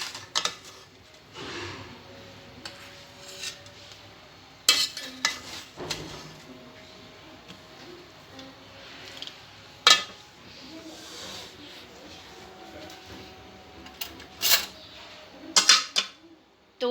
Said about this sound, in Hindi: ये हम अब निकालेंगे चावल प्लेट में इस तरह से